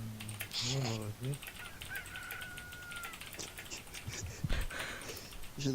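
A rooster crows once, short and somewhat distant, under a steady patter of computer keyboard typing, with faint voices nearby during an online Werewolf game.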